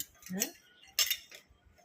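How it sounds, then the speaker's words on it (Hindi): Clean dishes being unloaded from a home dishwasher give two short bursts of bright clinking a fraction of a second apart, close by in an otherwise quiet kitchen. "ये डिश वॉशर में बर्तन धुल गए"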